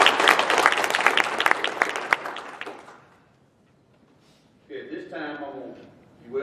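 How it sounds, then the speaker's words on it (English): A crowd claps loudly for about three seconds, then the applause fades away and a voice starts speaking. "give them a round of applause, please"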